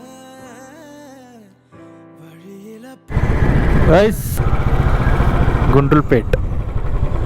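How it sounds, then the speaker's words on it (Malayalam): A Royal Enfield Bullet motorcycle riding on an open road, its steady engine thrum and rushing wind loud and continuous after music fades, with a brief spoken word over it. "എത്ര ദൂരം വേണമെങ്കിലും ഒറ്റയ്ക്ക് ഇതുപോലെ ബുള്ളറ്റ് ഓടിച്ചു പോകുന്നത്"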